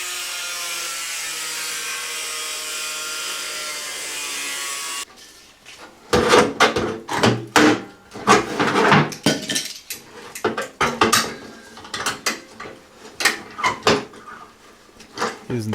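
A steady hiss of broadband noise gives way to a run of sharp, irregular metallic taps and scrapes as a chisel cuts out a pried-up sheet-metal flange on a Talbot camper bonnet. Close and uneven, with bursts of several hits.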